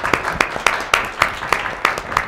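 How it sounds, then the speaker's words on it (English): Audience applause for a guest speaker at an indoor presentation: about nine sharp, separate claps at a slow, even rhythm, close and fairly loud, as if from one or a few people. "Let's give a quick round of applause for Ms. Shelley Roth once again."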